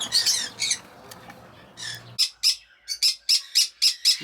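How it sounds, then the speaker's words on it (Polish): Young conure parakeets in an aviary nest box give a run of sharp, shrill squawks, first ragged and overlapping, then a regular series of close, loud single calls. "i doczekaliśmy się młode rodosterki"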